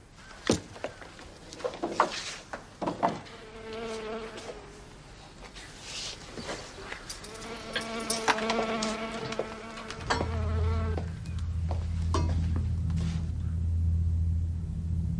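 Flies and other insects buzz in droning, wavering bursts among scattered knocks and rustles, ending in a low steady hum.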